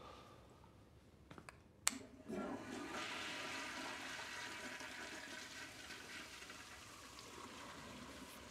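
A toilet flushes nearby after a couple of sharp clicks of the handle, followed by a steady rushing, gurgling water flow that slowly fades as the bowl refills.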